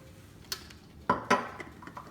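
Bruschetta topping being mixed with pepper, garlic powder, salt and balsamic vinaigrette: a few soft clinks and scrapes of a utensil against a bowl, close and brief.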